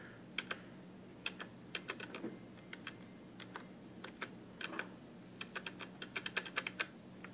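Typing on a DB Power computer keyboard, with bursts of crisp key clicks in an irregular rhythm that speeds up toward the end, close and fairly quiet, with no talking.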